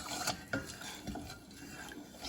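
Khmer sweet and sour sauce being stirred in a pot with a utensil, a few sharp scrapes and clinks against the metal over a soft background hiss.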